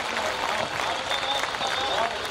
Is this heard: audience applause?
yes